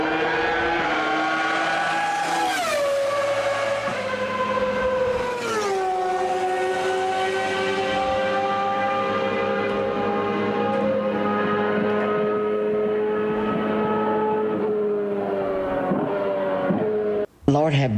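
Car engine revving with strong harmonic tones that climb, drop on gear changes, then hold a steady drone before cutting off abruptly near the end.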